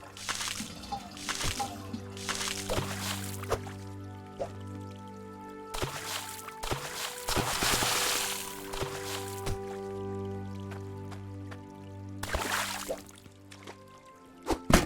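Water gushing from a pipe in the mining game Hydroneer, a steady sloshing flow under looping game music that surges louder through the middle of the stretch.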